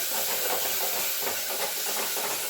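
Curry leaves sautéing in a pan for a chicken kulambu, giving a steady, close frying hiss that carries on without pause and with no talking.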